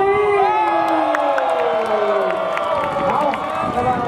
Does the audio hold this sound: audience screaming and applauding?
yes